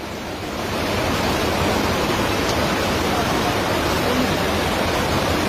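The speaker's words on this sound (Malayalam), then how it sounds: "ഇതാ സ്കൂളിന്റെ ഇതിൽ കൂടെയാണ് വെള്ളം വരുന്നത്" Floodwater from a landslide at Chooralmala in Wayanad, Kerala rushes through a school building as a constant, loud roar. It swells in within the first second, then holds steady, with no clear speech over it.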